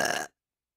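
A single short, breathy sneeze burst close to the mic, lasting about a quarter second, then silence.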